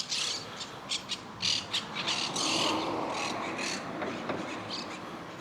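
Pigeons scuffle at a shopping center in Gran Canaria, with a run of sharp, repeated squawks and flapping bursts over a steady outdoor background.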